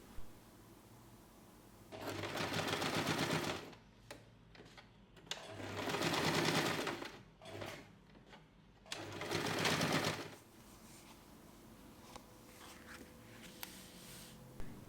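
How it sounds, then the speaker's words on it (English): A sewing machine stitches a fabric tab onto the main fabric of a small pouch, running in three steady bursts of a few seconds each with short pauses between them. "Sew the fabric tab onto the main fabric at the notch."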